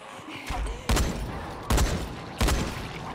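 Three heavy, evenly spaced shots from a camouflage rifle ring out in the zombie game Dying Light, each a loud sharp crack over a low murmur of game ambience.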